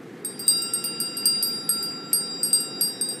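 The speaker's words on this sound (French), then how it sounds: "Carillon ophidien. Les serpents qui l'entendent doivent s'endormir." A snake-charming chime from the video game Life is Strange True Colors rings in a quick, uneven series of bright metallic tings over a low steady hum, fairly close and clear.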